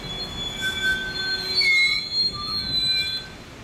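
An NJ Transit ALP46 electric locomotive train with an old cab car rolls past. Its wheels squeal loudly and steadily throughout, with several sustained high-pitched screeches overlapping as the cars pass.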